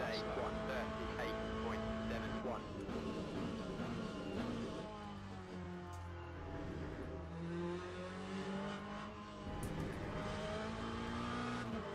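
Race car engines lapping in the Le Mans Ultimate video game roar steadily, with the pitch rising and falling through shifts and corners. A voice talks over the engine noise.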